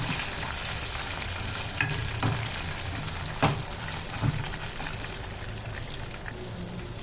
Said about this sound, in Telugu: ఇలా వేసుకుంటే మిరపకాయలు లోపల వరకు బాగా ఫ్రై అవుతాయి.